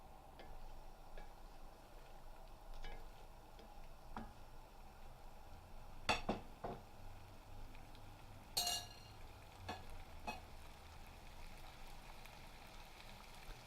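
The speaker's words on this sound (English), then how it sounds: "Then add the potatoes. And give them a good fry." Potatoes fry in a pan coated with spice paste, giving a faint, steady sizzle with scattered soft clicks and stirring taps.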